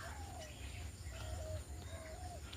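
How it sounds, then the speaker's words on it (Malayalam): A small bird near a farm gives three short, thin whistled calls, evenly spaced over a soft background hum, faint and fairly distant. "ഒരു കിളിപ്പെണ്ണ്"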